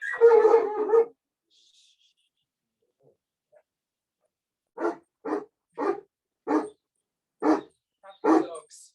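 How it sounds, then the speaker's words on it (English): Several short, bark-like yips, each bursting out separately and evenly spaced after an opening flurry of barking, near and fairly loud with quiet gaps between them and no talking. "Happy dogs."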